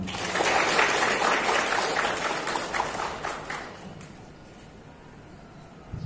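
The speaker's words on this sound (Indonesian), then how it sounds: "Tepuk tangan untuk kita semuanya." Crowd clapping at an anti-drug student declaration event fills the first few seconds, loud and dense, then thins and fades into a quieter murmur toward the end.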